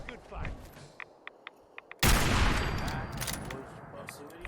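Rifle shots in Fallout 4 crack out as a few sharp, separate reports, then one loud blast that leaves a long, dense roar with scattered hits tailing off under it.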